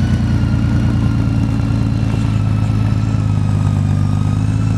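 A 2008 Honda Goldwing 1800 motorcycle idles close by with a deep, throaty and steady rumble, its low, even engine note running alone without any talk.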